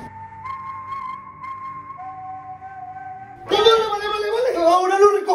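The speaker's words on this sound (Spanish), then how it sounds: "¿Y ese silbido?" A person whistles a steady, sustained tone near a home setting, holding one pitch then dropping to another, before loud household clatter and voices take over.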